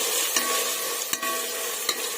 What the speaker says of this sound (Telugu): ఇదంతా కూడా ఒకసారి కలిపేసుకొని ఫ్రై చేసుకున్నాము పచ్చి వాసన పోయేంత వరకు